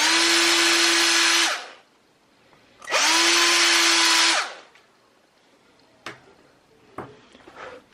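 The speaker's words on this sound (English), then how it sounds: "But I do need to countersink these." A power drill countersinking holes in a metal frame, two loud sustained whining bursts with a pause between, then a few sharp clicks and knocks of handling.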